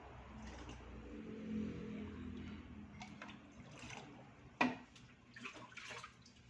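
Aquarium water splashes and pours out in a steady, moderately quiet stream during tank cleaning, with a sharp clunk partway through and a few small splashes after.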